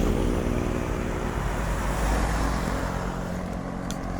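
Cars and motorcycles roll past on the Marilaque road, a steady broad rumble of traffic swelling slightly midway and easing off, loud and close with no voices.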